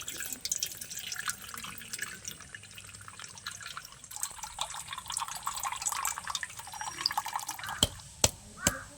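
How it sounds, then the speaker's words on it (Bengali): Water drains from a green coconut being readied for a prawn dish, making a steady soft trickle with a few sharp taps near the end. No voices are heard. "আগে জলটা বের করে নেবো এই যে নাহলে কিন্তু পড়ে যাবে জলটা"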